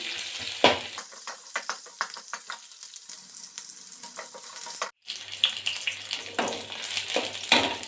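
Cinnamon and two cloves fry in hot oil in a pan, a close, steady sizzle with scraping stirs and clinks, briefly cutting out once before crackling on.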